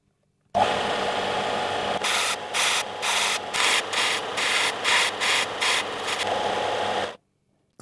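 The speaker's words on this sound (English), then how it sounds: "get over the disc sander to sharpen a" A disc sander grinds wooden dowels to a point, its steady motor hum broken by a run of rhythmic, rasping pulses as each dowel is pressed to the spinning disc, loud and close, starting and stopping abruptly.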